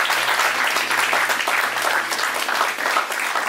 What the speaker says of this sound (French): Acclame Dieu pour toi